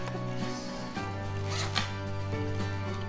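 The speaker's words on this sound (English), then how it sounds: "you can open it from whichever zip you want" The zippers on a rainbow-coloured Smiggle pencil box are pulled open, giving a scratchy rasping zip over a steady tonal background.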